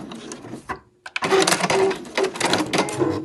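Sewing machine back stitching a dust bag seam: a brief pause, then a close, fast rattling run of stitching that continues steadily to the end.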